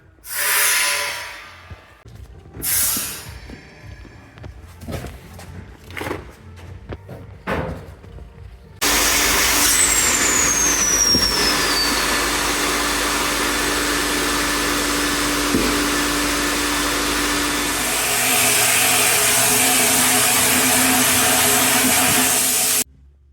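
Compressed air hisses loudly and continuously against a small Honda Z50 cylinder head being cleaned. It follows several short bursts and clatters and holds as a steady, close blast until it cuts off.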